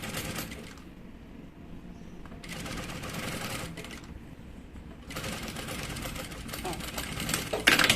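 A sewing machine runs in two stretches of steady whirring while stitching a seam on a fabric baby bottle holder, fairly close and loud, with short pauses between the bursts.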